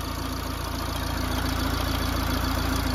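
Opel Vauxhall Vivaro van engine idling with a cylinder 3 injector control circuit open fault, giving a steady, close, continuous mechanical hum and rumble with no talking.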